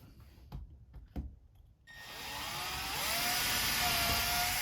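During a kitchen cabinet install, a couple of sharp knocks give way to a power drill driving a screw into the floor, its motor whine rising and holding steady, loud and close.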